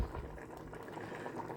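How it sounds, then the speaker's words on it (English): Liquid bubbles and fizzes steadily after a pinch of Gikukuru salt is added while cooking akeza isombe. The sound is a soft, continuous simmering hiss, faint and close, with no speech. "It's causing it to bubble up quite a bit."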